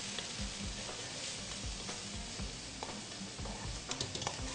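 Mushrooms with red chili flakes and squeezed lime are stirred quickly in a hot pan, giving a continuous sizzle broken by scraping strokes and light clinks of the utensil against the pan.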